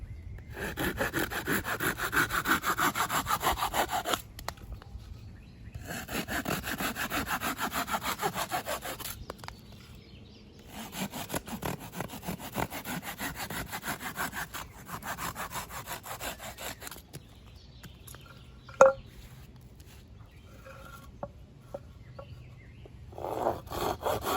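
A Corona Razor Tooth 10-inch hand saw is pushed freehand through a wooden 2x4, giving rhythmic rasping strokes in bursts separated by short pauses, with a sharp knock near the end.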